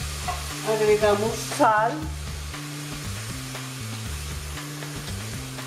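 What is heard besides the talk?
stirring chicken sauce in a pan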